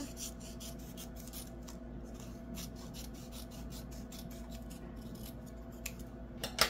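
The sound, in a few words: cutting a diamond painting sheet with scissors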